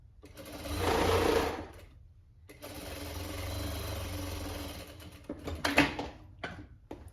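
A domestic sewing machine stitching a winter pajama, running in two bursts of steady whirring motor with a pause between, followed by a few short clicks and knocks, close and fairly quiet.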